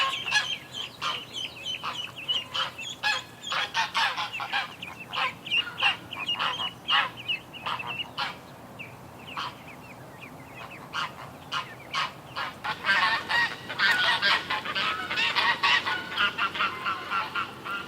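A flock of geese honks repeatedly in a yard, loud and close, with overlapping calls that swell near the end; no talking.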